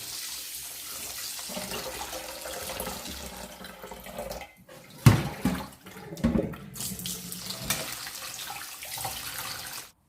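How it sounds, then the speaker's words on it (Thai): Water runs steadily from a tap as sago pearls are rinsed through a strainer, a continuous splashing wash with a brief break and a few louder splashes midway. "สาคูเราก็จะล้างน้ำผ่านกระชอนหลายๆน้ำไปเลยค่ะ"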